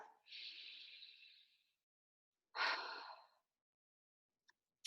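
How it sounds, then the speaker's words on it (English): Two deep breaths taken during a calming tapping session, a long airy inhale followed by a shorter exhale, close and quiet, then faint clicks. "Take a deep breath."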